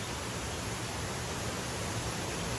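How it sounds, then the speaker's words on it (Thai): A swollen forest stream rushes in a loud, unbroken roar, a dense even wash of water noise with no breaks, no other sounds and no voices. "เสียงน้ำดังมากทุกคน"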